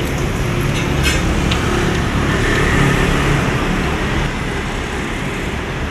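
Cars pass along a busy street in Samarinda. A continuous, fairly loud traffic drone swells and eases as vehicles go by, with a brief brighter clatter early on.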